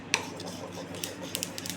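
A spoon stirs skinless peanuts dry-roasting in a pan, giving scattered scraping rustles and a few sharp clinks against the metal, fairly close and with no talking.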